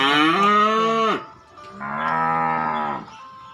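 Cattle in a morning pen on a farm low loudly and close by, two long, drawn-out moos separated by a short pause.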